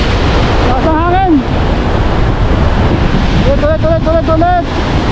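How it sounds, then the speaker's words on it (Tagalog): Strong wind buffets the microphone on a fishing boat at sea in stormy weather, a constant loud rumbling roar with waves, while excited voices shout twice over it. "Lakas ang hangin!"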